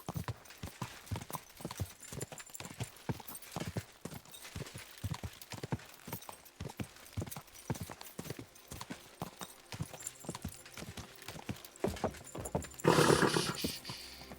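Rhythmic clip-clop of a horse's hooves galloping at a fast, steady pace in the video game Kingdom Come: Deliverance II, running for a long stretch, with a burst of louder noise near the end.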